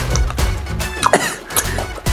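Cough from a young man during a spicy chicken pakora eating session, a few sharp close bursts with throat clearing over a busy room background.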